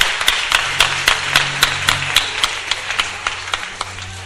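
A church congregation clapping for Jesus during a Friday night service, with many hands beating a brisk, steady rhythm loudly and up close, a faint low hum of voices underneath.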